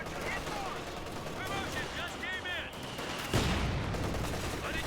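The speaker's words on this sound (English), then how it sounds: "MG34 opening up" MG34 machine gun fire in the Company of Heroes 2 battle game, rattling bursts mixed with other gunshots and battlefield noise, fairly faint under a busy combat soundscape with a sharper blast near the end.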